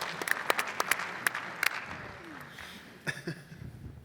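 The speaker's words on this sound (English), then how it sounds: "I give him a round of applause" Scattered applause from a conference audience, a few sharp individual claps standing out over a thin clatter that fades away, then a couple of late claps near the end. Quiet and somewhat distant.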